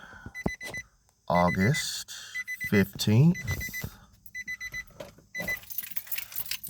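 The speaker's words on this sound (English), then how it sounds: "Sorry for the beeping." A repeated electronic beep chimes steadily in the background while someone talks close by, along with faint car interior noise.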